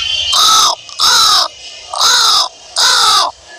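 A man imitates a black crow's caw with four loud, drawn-out caws evenly spaced and clearly separated by short pauses.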